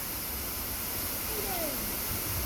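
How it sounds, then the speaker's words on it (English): Eden Falls, a waterfall on a hike in Arkansas, rushes as a steady broadband wash of water, moderately loud and continuous, with a faint sound passing through midway and a brief thump at the end. "There's a really cool waterfall over here."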